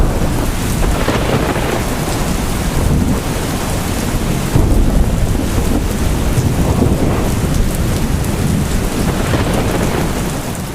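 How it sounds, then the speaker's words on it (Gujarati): Heavy monsoon rain pours steadily across south Gujarat around Surat, Navsari and Valsad, a loud, dense roar of falling water with rolling thunder rumbling beneath it throughout, and no voices. "દક્ષિણ ગુજરાતના સુરત, નવસારી અને વલસાડમાં પણ વરસાદનું જોર જોવા મળ્યું"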